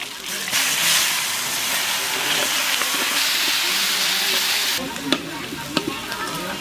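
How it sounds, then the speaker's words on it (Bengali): Hot oil sizzling loudly with whole cumin, bay leaf and onion for a fish curry, a dense steady hiss that eases slightly near the end, broken by a few sharp spatters and clinks, close up. "মাছ ভাজিছি ওই তেলে ফোড়ন দিয়ে দেবো মাছের কারিতে, গোটা জিরা, তেজপাতা"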